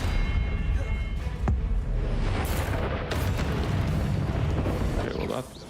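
The Expelliarmus disarming spell is cast in the video game Hogwarts Legacy, heard as sharp whooshing bursts and booming impacts layered over continuous game ambience, with a voice talking throughout.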